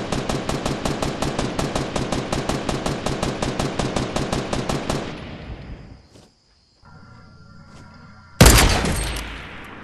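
Rapid automatic gunfire in a video game, a fast loud regular burst that fades out, then a brief lull and a sharp closing blast.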